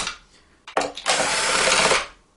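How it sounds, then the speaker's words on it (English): A power screwdriver backing screws out of a hoverboard's self-balancing scooter casing, one short burst followed by a longer steady whirring run, close up with no talk. "I will be using a power screwdriver, actually two of them"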